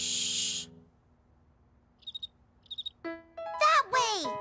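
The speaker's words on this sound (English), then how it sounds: "We have to listen for that sound and follow it until we find the cricket." A cartoon cricket gives a few short, high pulsed chirps in two brief clusters amid near silence, followed by a cartoonish tonal voice-like whistle that slides up and down.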